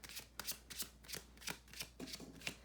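Oracle cards are shuffled in a quick series of crisp riffling bursts, roughly eight evenly spaced flutters heard up close with no voices.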